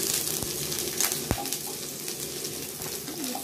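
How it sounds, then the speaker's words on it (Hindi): Potatoes and cauliflower fry in a pan with a steady, close sizzle that runs throughout, broken by a few soft clinks. Faint bird cooing can be heard behind it. "अब ये आलू और गोभी जो हम लोगों ने रखा था, इसको हम लोग फ्राई कर लेंगे।"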